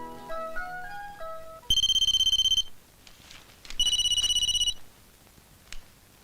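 A mobile phone rings with two bursts of a bright electronic ringtone, preceded by a short melodic run of tones, then quiet with a faint click.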